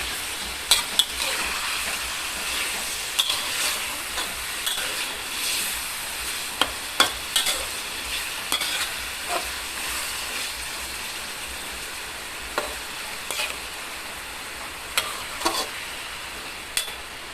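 Sweet pork frying in a pan of hot oil, giving a steady broadband sizzle with scattered crisp pops and occasional scraping stir clicks, close and continuous throughout.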